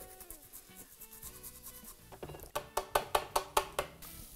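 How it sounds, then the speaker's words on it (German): Fresh ginger is grated for a coconut curry paste, first in soft rubbing strokes and then in a run of about seven quick, rhythmic scraping strokes against the grater, close and fairly quiet. "Weiter Ingwer, ein bisschen reiben."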